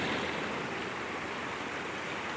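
Creek water running high after a storm, a steady close rushing and churning flow with no voices.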